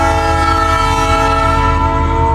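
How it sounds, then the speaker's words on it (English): A train horn sounds outside, a loud, sustained multi-tone blast holding steady for the whole stretch over the low rumble of the passing train. "Train outside."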